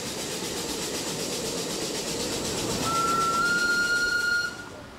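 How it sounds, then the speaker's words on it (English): Miniature railway train rolling through Dresden's Grossgarten park, a steady rumble with a long high squeal of wheels or brakes near the end, fading as it passes. "A miniature railway runs through Grossgarten, Dresden's largest park."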